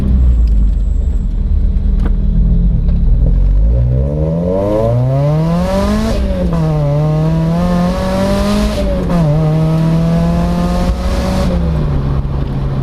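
A Rotrex-supercharged Mazda Miata engine revs hard and climbs through the gears, its pitch rising and dropping between shifts. It is loud and close, with a steady rumble and no talking.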